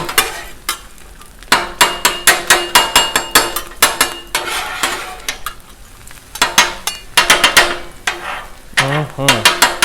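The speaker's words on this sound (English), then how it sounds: "let's get this sausage turned up" Sausage on a 36-inch Blackstone griddle gets turned and pushed around, a run of sharp metal spatula taps and scrapes in quick rhythmic bursts over a faint frying sizzle, close and loud.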